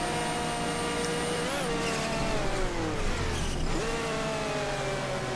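Porsche 962 race car engine at Fuji Speedway in the racing game GTR2, a steady loud high-revving drone with gear-shift dips and pitch climbs, continuous throughout with no talk.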